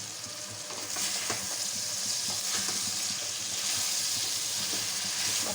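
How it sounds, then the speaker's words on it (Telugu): A mixed vegetable curry cooking in oil in a pan, stirred with a spatula: a steady sizzle with soft scraping and clinking strokes, moderately quiet and close. "ఇప్పుడు ఒకసారి తిప్పుకుందాం"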